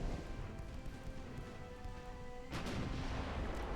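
A naval shell in the Ultimate Admiral: Dreadnoughts game, a 4-inch round striking a pre-dreadnought's stern and setting off the 9-inch gun magazines. It erupts into a loud, sustained rumbling explosion over an ongoing battle din.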